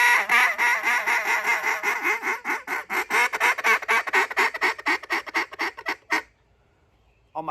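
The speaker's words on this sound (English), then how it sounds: "The J-frame, I can get a little bit whinier, a little bit squeakier." A J-frame duck call quacks in a rapid run of whiny, squeaky calls. The calls are close and loud, come in a steady rhythm for about six seconds, then stop into silence.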